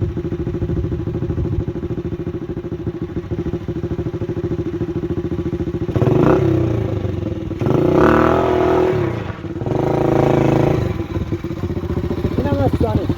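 A Sunny motorcycle on a dirt surface, its engine idling with a steady close putter, then revving up in three strong bursts before settling back, with someone speaking over it.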